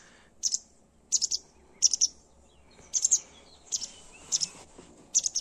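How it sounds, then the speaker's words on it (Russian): A small bird chirps in short repeated bursts of two or three high notes, about once a second, fairly close against a quiet outdoor background. "Все чирикает."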